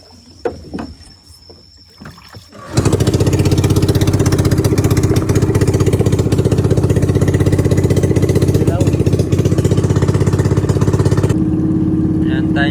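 A fishing boat's engine, quiet at first with faint background sounds, suddenly starts after a few seconds and then runs loud and steady with a close, buzzing chug until near the end, when it drops in level.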